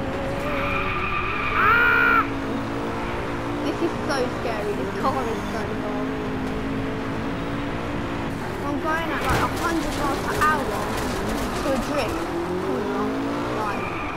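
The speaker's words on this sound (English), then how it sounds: "That was a clear drift." Tires squeal as a car drifts in the racing video game Driveclub, with a sustained engine whine and screeching skid layered under steady talk throughout.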